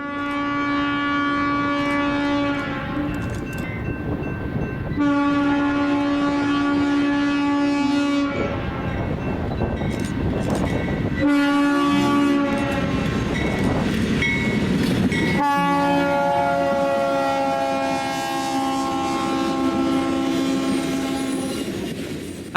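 BNSF freight train led by an RS3L locomotive with an AC44C4M trailing passes close and loud, its horn sounding in long repeated blasts over the steady rumble and clatter of wheels and cars.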